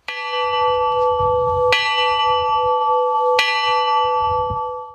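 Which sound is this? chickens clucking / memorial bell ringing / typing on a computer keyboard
memorial bell ringing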